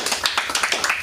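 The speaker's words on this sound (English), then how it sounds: "Give yourself a round of applause." Brief, quick run of hand clapping from an audience at a talk, a light patter of about a dozen claps, moderately close and without voices.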